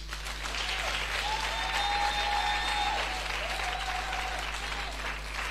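A church congregation applauding to acclaim Jesus during a Sunday fasting and prayer service: sustained, even clapping for several seconds, with a steady low hum underneath and some faint tonal sounds that rise and fall over it.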